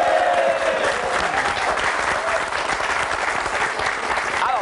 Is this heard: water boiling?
no